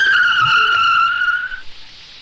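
A car's tires screech in a sharp skid during a near accident, one loud sustained squeal lasting over a second before fading out, with no talk over it.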